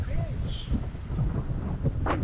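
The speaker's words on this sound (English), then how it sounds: "Sorry about the wind." Wind buffets the microphone on a beach near the Libyan border, a continuous rough low roar across the whole moment, loud and close, with faint voices mixed in.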